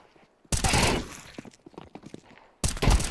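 A Scout sniper rifle in the video game CS2 fires a sharp, loud crack that decays with rattling echoes, followed by a second abrupt shot near the end.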